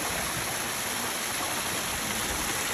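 A pool water feature splashes in a steady, loud broadband wash of falling water, continuous and close with no voices.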